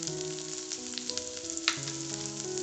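Salt, red chili powder, pepper and oregano sautéing in a pan for a Mexican burrito bowl give a bright, steady sizzle, with a soft sustained melody playing faintly underneath and no voices.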